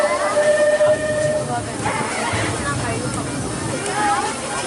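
A Disneyland Railroad train rolls along with a steady low rumble and rail noise, with a faint whistle-like tone early on and a recorded announcement voice over it.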